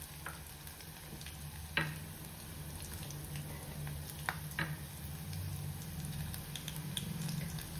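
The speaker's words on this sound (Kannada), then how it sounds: "ವಟಾಣಿ ಅದೆಲ್ಲ ಹಾಕ್ಕೊಂಡು ಫ್ರೈ ಮಾಡಿಕೊಂಡೆ" Peas fry in a pan with a continuous close sizzle and crackle, broken by occasional scrape and tap sounds from stirring, with no talking.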